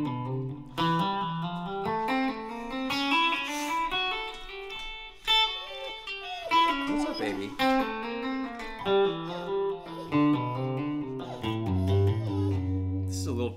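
Electric guitar on a clean tone runs a hammer-on warm-up exercise, a steady stream of fast legato notes climbing and shifting across positions, close and alone.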